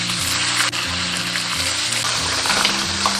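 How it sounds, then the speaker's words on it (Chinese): Fish pan-fries slowly over medium-low heat in hot oil for a seafood hotpot, a steady close hiss and crackle of sizzling under a low background hum. "下入鱼中小火慢煎"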